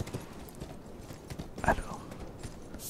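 Horse hooves in Elden Ring clop at a steady gallop across a faint game ambience, with a sharper burst of movement partway through.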